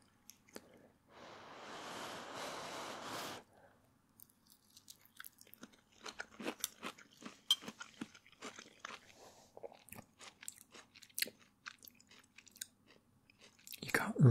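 Close-up mouth sounds of chewing a thin microwave omelette slice, with soft crunchy, wet bites in an irregular rhythm after a brief burst of rustling noise, quiet and without talk.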